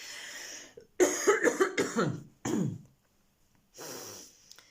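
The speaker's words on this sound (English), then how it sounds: "Please excuse my morning cough." A fit of several harsh, close morning coughs from a former smoker in quick succession, then a pause, another cough, and a breathy exhale.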